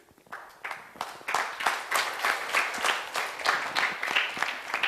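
A Toastmasters club audience breaks into sustained applause after a speech, many hands clapping in a dense, steady roll that swells quickly and holds at a moderate level for several seconds.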